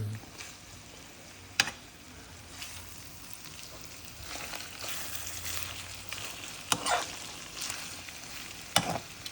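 Chicken pastel cooks in a pan while cheese melts, making a faint, steady sizzle with occasional soft clicks and stirring knocks, close and quiet, without talk.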